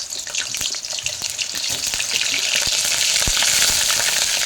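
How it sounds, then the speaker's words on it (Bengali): Potatoes frying in hot oil beside chicken leg pieces, a loud, steady crackling sizzle with dense popping spatter that builds slightly over time, heard close up with no voices. "তেলটা গরম হয়ে গেছে, আমি একটু আলুগুলো ভেজে নেই।"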